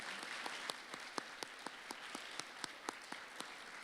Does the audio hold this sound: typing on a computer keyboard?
no